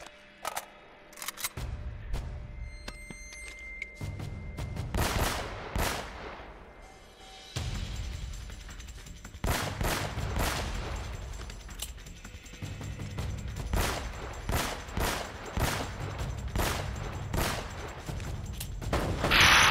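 Gunfire in Uncharted: Drake's Fortune Remastered, a run of loud, sharp shots in irregular bursts across the whole stretch, some spaced singly and others clustered close together, with echoing tails between them.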